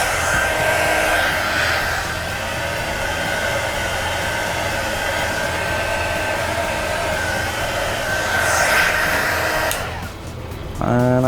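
Heat gun blowing hot air over gold paint on a PC case during a marble-style case build; a loud, steady whooshing roar with a whine runs throughout, dipping briefly near the end before rising again.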